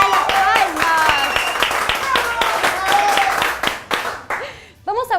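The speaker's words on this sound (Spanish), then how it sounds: "¡Fuerte las palmas!" A studio audience on a Peruvian talk show claps in sharp, rhythmic bursts under a presenter's excited speech, the clapping thinning out before talk resumes at the end.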